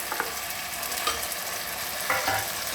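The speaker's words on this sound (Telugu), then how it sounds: "ఇది బాగా ఫ్రై కావాలండి." Masala and tomato fry in a pan for mutton kheema curry, giving a steady close sizzle broken by a few sharp scraping stirs of a spoon.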